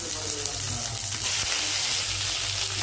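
Capsicum and onion sautéing in a pan for a capsicum gravy, a continuous moderate sizzle with faint scraping and a soft voice underneath.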